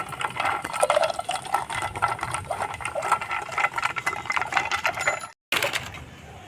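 Rapid, continuous rattling and churning as mango lassi with ice is whisked briskly in a pot with a wooden churner, a steady busy rhythm with one brief pause near the end.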